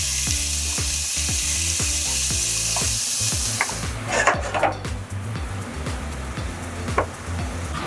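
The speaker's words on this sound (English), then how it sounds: "I can go in with my peppers and onions." Peppers and onions sautéing in hot oil in a saute pan, an even close sizzle that turns into a busier crackle with stirring scrapes and knocks partway through.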